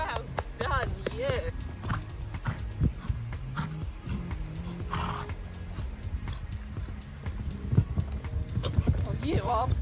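Pony hooves clip-clop on the ground as the animal is ridden during jumping practice, irregular thuds under frequent encouraging talk from a rider, with occasional snorts.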